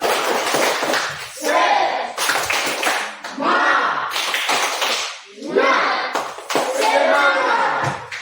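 Schoolchildren in a classroom perform a rhythmic group clapping chant, their loud, close hand claps coming in repeated patterned bursts with short pauses, mixed with chanting voices.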